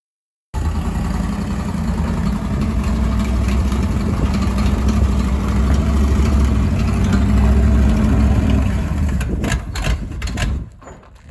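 A rough 1968 Chevy C-10 truck engine, formerly locked up, runs steadily at idle, a low rumbling drone that holds for several seconds before cutting off near the end.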